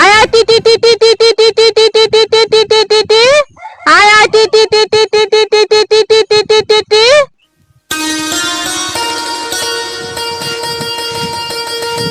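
A rapid, steady string of high clucking calls in two loud bursts with a brief gap, as an old woman calls chickens to feed, followed by music.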